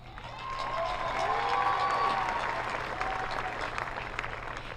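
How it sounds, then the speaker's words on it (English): Graduation ceremony crowd applauding for a classmate at a high school Class of 2022 event, a broad, steady wash of clapping from a large audience, moderately distant and sustained throughout. "let's give a big round of applause to Faiza"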